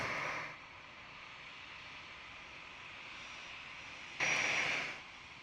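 An Air Canada Rouge airliner at Toronto airport passes with a faint, distant steady engine drone, a brief louder swell of jet whine near the end before fading.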